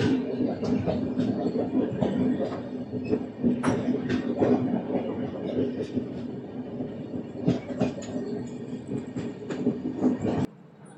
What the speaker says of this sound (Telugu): అక్కడ బ్రిడ్జ్ కింద ఒక ట్రైన్ వెళ్తుంది చూసారా?